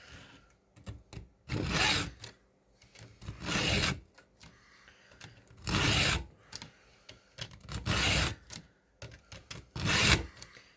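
A hand sharpening tool files chainsaw chain teeth in repeated rasping bursts, each stroke a short scraping rub separated by brief pauses, close and fairly loud.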